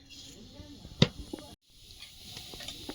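Cumin seeds hit hot oil in a kadai with a sharp crackling burst, then a steady close sizzle and hiss continues alone after a brief pause.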